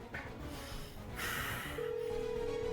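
A phone call rings out unanswered, a single steady ringback tone coming in after a brief burst of handling noise, waiting alone with no voices.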